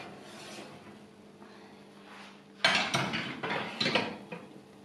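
Metal tray of country-style potato pilaf being pulled from a 200-degree oven: a low hum, then sudden loud metallic scraping and clattering of the pan, close and clear.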